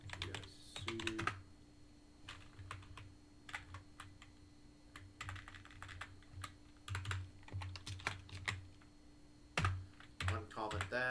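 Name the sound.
typing on a computer keyboard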